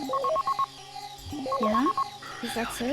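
A repeating electronic ringtone-like melody of short beeping tones plays in bursts, with a person talking briefly over it.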